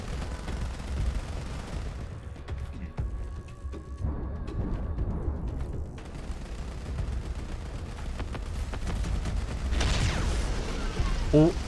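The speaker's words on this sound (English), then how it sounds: "would have been a perfect shot with the Nova Cannon, but it slid by just barely" A Nova Cannon shot in the space combat game Starcore booms amid bursts of rapid weapon fire and rumbling impacts, with a rising whine near the end and voices talking underneath.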